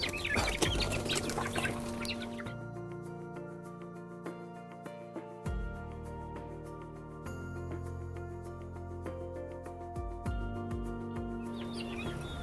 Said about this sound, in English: Say hi to some of my new chickens too. They're skittish, but I have some red jungle fowl and some mixes from my flock.